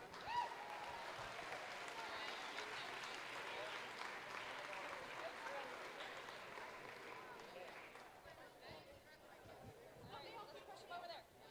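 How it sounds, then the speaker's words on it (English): Crowd applause for graduating seniors at a FIRST robotics tournament, a steady wash of clapping mixed with cheering and general hubbub in a large venue, softening slightly toward the end with some voices audible. "So let's give these seniors a round of applause."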